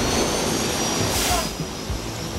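A steady jet engine roar from an airplane in the airport management game Airport CEO fills the whole short clip at a close, constant level. A brief whistling rise comes midway.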